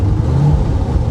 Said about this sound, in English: You give it a little throttle, misfire clears right up